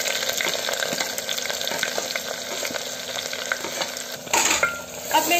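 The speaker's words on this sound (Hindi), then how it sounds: "अब ये गर्म हो चुका है, मैं इसमें डालूंगी प्याज।" Chopped onions and five or six green chillies fry in hot oil, a loud close crackling sizzle with scattered pops and a brief burst of stirring or scraping near the end, with no voices.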